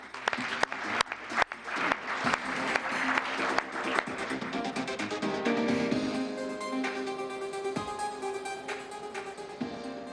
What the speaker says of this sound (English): And another big round of applause.